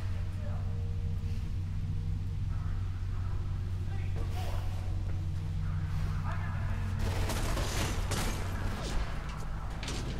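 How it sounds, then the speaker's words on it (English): Enemy gunfire in the video game Mirror's Edge crackles in scattered bursts over a steady low droning hum, growing denser and louder with rapid volleys near the end, with some faint talk mixed in. "They're shooting."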